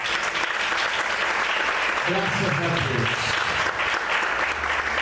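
A church congregation claps steadily in sustained applause, dense and even, with a voice speaking briefly underneath.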